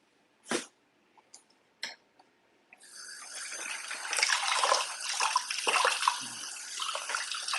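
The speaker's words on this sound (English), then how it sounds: "Wash the cauliflower." Cauliflower washed under running water makes a steady splashing, gushing stream that starts a few seconds in, with a few separate thumps and knocks before it, close by and without talk.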